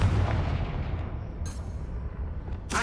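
Confringo fire blast spell cast in Hogwarts Legacy; a deep rumbling boom that fades over a few seconds, with brief bright crackling bursts partway through and again at the end.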